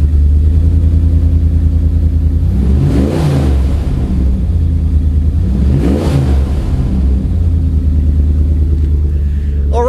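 Old Dodge Ram truck engine with an aftermarket Flowmaster exhaust cranks and fires twice, each start a loud rumbling burst before settling into a steady, deep idle, close to the mic with no talking.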